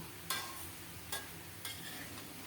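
Gourd curry with small shrimp stirred in a pan, three brief scraping strokes of a spoon over a faint, low background sizzle, quiet and close.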